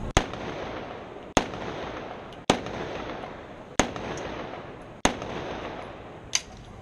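A historic firearm fired at an outdoor firing display in Sheffield's Kelham Island, giving six sharp, loud reports at roughly one-second intervals, each followed by a noisy wash of echo and background rumble, the last shot fainter.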